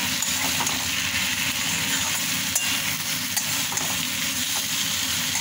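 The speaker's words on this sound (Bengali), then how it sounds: "মাছ ভাজাগুলো দিয়ে একটু নেড়ে" Pieces of fried fish stirred into a sizzling, oil-rich masala in a pan give a steady, loud frying hiss with scraping stir strokes throughout, close up and without talk.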